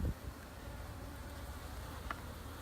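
Honeybees buzz around an open backyard hive, a steady low drone holding throughout with no talk, close and moderately loud.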